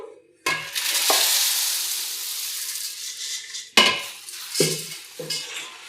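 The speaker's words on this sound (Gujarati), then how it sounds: "એવી જ રીતે આપણે બધા મમરા શેકી લેશું." Puffed rice (mamra) roasts in a hot pan while a spatula stirs it, making a rustling, sizzling hiss broken by several scraping stir strokes and light metallic knocks, close and clear.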